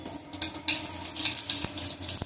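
Cumin and garlic fry in hot ghee in a pan for a bottle gourd, carrot and drumstick soup, a close, steady crackling sizzle with bright spattering pops and one or two sharper clinks, no talking.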